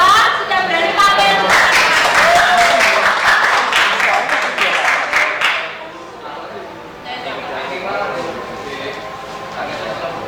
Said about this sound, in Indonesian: Kasih aplaus lagi ya buat kelompok 2 sudah berani tampil